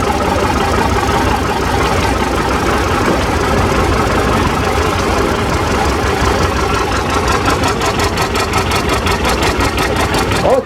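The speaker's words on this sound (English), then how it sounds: "His 6030 John Deere. It's a 1975, 177 horsepower," A 1975 John Deere 6030 tractor, 177 horsepower with a 531 cubic inch engine, idles loud and close at a steady low rumble, with a faster pulsing rhythm emerging near the end at a steam and gas engine show.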